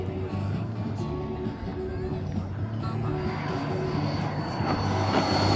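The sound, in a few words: RC airplane landing at Arvada field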